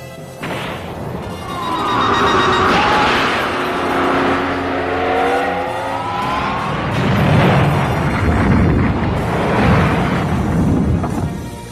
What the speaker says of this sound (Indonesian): Alhasil terjadi ledakan yang begitu dahsyat di tempat tersebut.